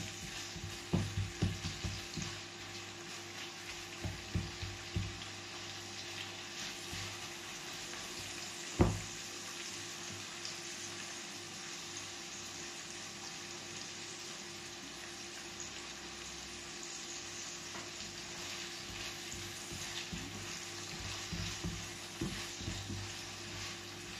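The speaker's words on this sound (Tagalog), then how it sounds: "Ilalagay na po natin ang ating chicken." Chicken added to a pan of softened onions, a quiet continuous frying hiss with occasional stirring clicks and one sharp knock partway through.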